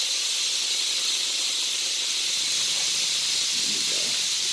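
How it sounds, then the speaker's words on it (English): Steam hisses steadily while tempeh is steamed in a home kitchen. The loud, continuous breathy hiss lasts throughout, with faint clatter near the end and no talk. "We're going to have to steam it right in the middle of the video."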